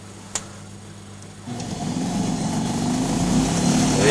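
A salvaged washing machine motor powers a homemade electric car with a simple potentiometer speed control. After a faint hum and a single click, the motor whirs up and its drone grows steadily louder and higher as it accelerates.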